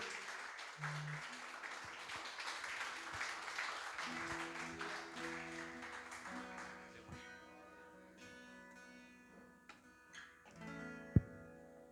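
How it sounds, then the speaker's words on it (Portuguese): Church congregation at an evening service claps, a moderate sustained patter that thins out midway, giving way to sparse claps, a sharp knock, and faint background tones. "Vamos aplaudir o nome de Jesus"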